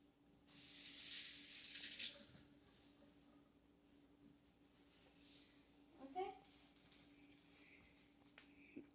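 Water runs from a tap for about a second and a half while someone washes off a substance, a loud hiss that fades out, followed by quiet handling noises and faint clicks.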